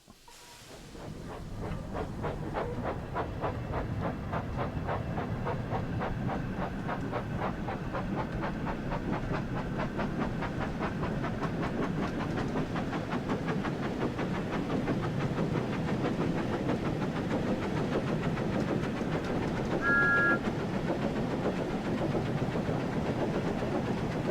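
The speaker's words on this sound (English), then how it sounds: "Use the throttle once again to apply some power to get Thomas moving." Thomas the Tank Engine, a steam locomotive in the West Somerset route of the Train Sim World 5 video game, gets moving with steady rhythmic chuffing over a constant steam hiss, building from silence into an even, moderately loud beat.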